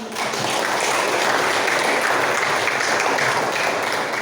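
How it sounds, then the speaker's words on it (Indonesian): A classroom group claps together in a dense, sustained burst of applause that holds steady at a fairly close range. "Berikan aplaus."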